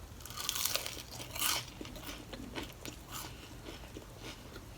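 Seasoned curly fries are bitten and chewed close to the mic, giving a series of crisp crunches followed by softer, irregular chewing sounds.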